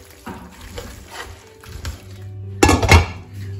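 Beet salad with dill being stirred in a pot: soft scraping and clinking of a spoon against the pot, a few quiet strokes followed by a louder burst of knocking near the end.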